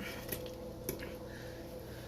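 Wet squishing and sloshing as pork chops are flipped and coated in a creamy sauce inside an Instant Pot, with a couple of soft, close clicks or taps over a low background hum and no talk.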